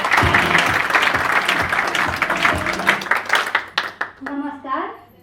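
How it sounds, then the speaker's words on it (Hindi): Loud, dense audience applause at a gathering, fading toward the end into a few scattered claps as a voice begins speaking. "जोरदार तालियां नॉर्थ ईस्ट के लिए।"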